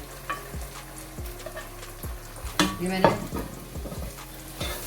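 Tomatoes fry in oil that sizzles steadily in a pan while a utensil stirs and knocks against it roughly once a second, close by.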